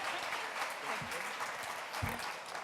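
A cheering section of supporters applauds at a Millersville University NAACP appreciation event, steady dense clapping carrying through the whole moment at a moderate level with a couple of low thumps.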